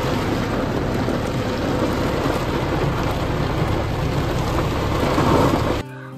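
A large waterfall pours onto a car driving beneath it on a rough mountain road in Uttarakhand's Darma Valley, making a dense, loud roar of drumming water that cuts off abruptly near the end.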